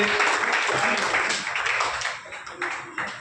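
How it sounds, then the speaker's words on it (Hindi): An audience at a Dr. Ambedkar Jayanti event applauds dense and steady to welcome a performer. The clapping gradually thins out and breaks into a few separate bursts as it tapers off. "फिर से आपसे अनुरोध करता हूं कि ताली के साथ फिर से स्वागत करिएगा"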